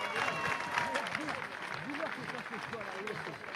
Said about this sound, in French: Allez, mesdames et messieurs, on applaudit un nouveau concurrent qui va en terminer maintenant.